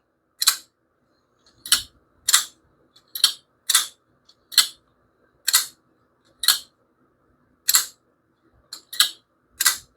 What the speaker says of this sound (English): So that's the sound of that piece of metal hitting that piece of metal and opening it up.